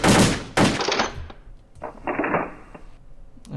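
AK-47 rifle shots at a shooting range in the World of Guns video game, a few sharp, loud single reports spaced irregularly with ringing decay between them, no talking.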